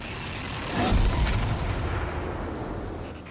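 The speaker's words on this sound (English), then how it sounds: "The Cabal are setting up a giant cannon." A giant Cabal cannon fires in the video game Destiny, giving one heavy booming artillery blast that swells and then fades into a long rumbling tail, loud and without talking.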